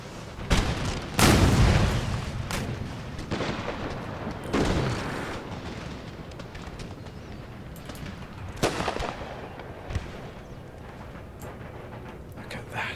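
Musket and artillery volleys thunder in Empire: Total War, a large American army battle, with heavy booming bursts near the start and scattered cracking shots and rumbles continuing underneath.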